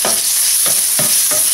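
Garlic and onion sautéing in hot oil in a pan, a steady bright sizzle with a few soft stirring scrapes spaced through it, close and loud with no talking.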